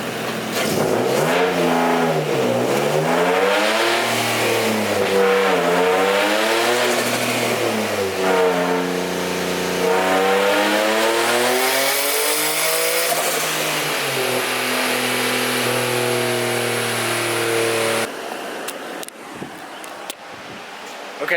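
Turbocharged project car engine revving through a test pull at low boost, loud rising and falling engine tones with sweeping harmonics heard close up, ending abruptly with quieter rumbling.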